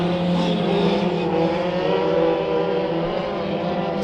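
Race cars roar around Bakersfield Speedway during a heat race, engines droning loud and continuous as the pack circles close by.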